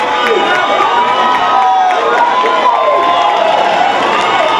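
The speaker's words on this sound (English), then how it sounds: "a big round of applause for your former Miss Savannah State Universities" Pageant audience at the Miss Savannah State University event giving loud, sustained applause mixed with cheering and shouts, a dense continuous roar filling the hall.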